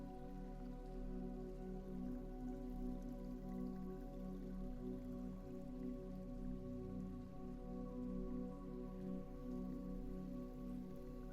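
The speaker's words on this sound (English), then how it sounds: "The rain softens into scattered drops across the dark water." Steady, soft rain with scattered drops falling on dark water, a continuous even patter throughout, blended with a low sustained tonal drone.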